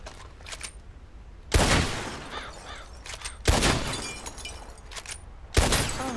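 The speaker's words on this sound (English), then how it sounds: "Shoot 3 bottles." Three loud, close gunshots in Red Dead Redemption 2, fired at bottles with a few seconds between each, every crack followed by glass shattering and a short echoing tail over quiet background ambience.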